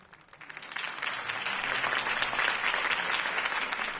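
A video game crowd breaks into applause, swelling quickly from a few claps into a steady, dense wall of clapping that carries on without voices.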